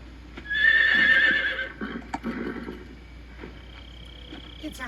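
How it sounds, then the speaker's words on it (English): A white horse neighs loudly in Metal Gear Solid 3, a single drawn-out whinny, followed by quieter clopping and rustling ambience. "It's a white horse."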